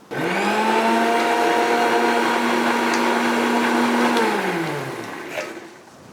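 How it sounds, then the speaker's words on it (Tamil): A mixer grinder whirs loudly as it grinds chilies into a paste, a steady high motor whine held for several seconds before it winds down, with a small clatter at the end and no speech. "இது அரைச்சிடலாம் இது அரைச்சிடலாம்"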